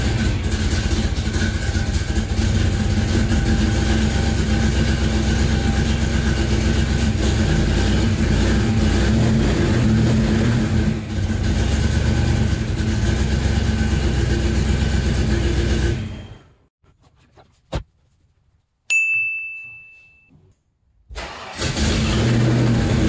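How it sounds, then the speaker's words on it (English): A Ford Fox Body Mustang with FlowMaster 50 exhaust fires up and then idles with a loud, steady, deep rumble for about sixteen seconds. The engine then cuts off, leaving near silence, a brief beep and a few faint clicks. "here's the first fire with the FlowMaster 50s"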